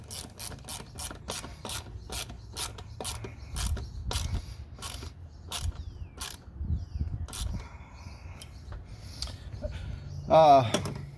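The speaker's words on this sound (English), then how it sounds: "Let's make sure that our hose clamps are nice and tight." Hose clamps being tightened on an AEM cold air intake in a Honda Ridgeline, giving a steady run of sharp, close ratcheting clicks over a low background rumble, with a brief burst of quicker clicks near the end and faint talk.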